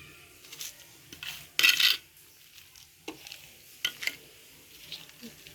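Potting mix is poured into a pot holding an azalea plant, making short dry rustling bursts, one louder grainy pour in the middle, then scattered softer scrapes and taps.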